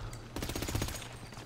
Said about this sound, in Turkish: Bombalar patlıyor oğlum.